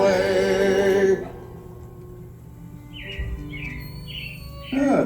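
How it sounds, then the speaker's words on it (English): Robins chirp in a short series of bright, quick calls as an animatronic sound effect on Walt Disney World's Carousel of Progress ride, following the fade of a sung tune and heard fairly clearly against a quiet background. "It looks like the Robins are getting ready to celebrate Valentine's Day today."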